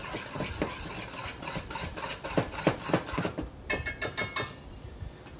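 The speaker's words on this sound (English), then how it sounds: "I have another whisk. And then you just kind of mix it up a little bit" A whisk mixing salt into flour in a bowl makes a quick run of rhythmic clicks and scrapes. It is close and distinct, with a brief faster rattle near the end and no voices.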